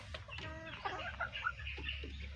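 A chicken clucks and makes a few short throaty calls close by, over a steady low background rumble.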